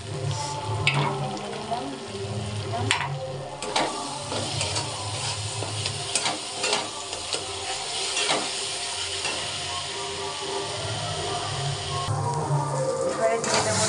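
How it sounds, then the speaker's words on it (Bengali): Chicken and paneer sautéing in a pan with a splash of water, a steady close sizzle and hiss with occasional stirring scrapes and clinks, and light talk in the background. "জল একটু দিয়ে কষাচ্ছি। দিয়ে দেবো চিকেন পনির।"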